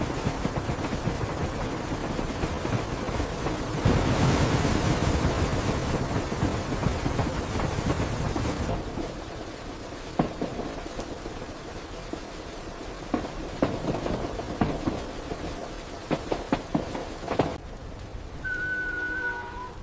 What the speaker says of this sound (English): The rain is heavy tonight.